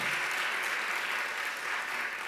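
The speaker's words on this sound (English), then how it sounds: "we owe a huge round of applause" Dense applause from a large audience at a welcome event, steady and loud, with no voices standing out.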